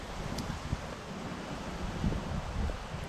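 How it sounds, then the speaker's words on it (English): Wind gusting outdoors on a golf course estate in Louisiana, a continuous broadband rush buffeting the microphone with low rumbling thumps and no voices. "I hope y'all can hear me out here. It's kind of windy."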